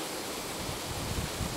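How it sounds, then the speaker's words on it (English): A big waterfall at Cwm Idwal in North Wales pours out a constant, dense rushing roar, broad and unbroken, heard close with no other sounds. "Look at this for a waterfall."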